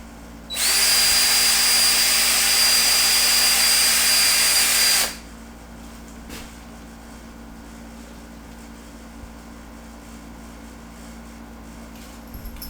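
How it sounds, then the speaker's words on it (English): A power drill fitted with a depth-stop bit whines loudly and steadily for about four seconds while boring into a guitar headstock, then cuts off, leaving quiet room tone with a faint tap or two. "I'm using a depth stop drill bit"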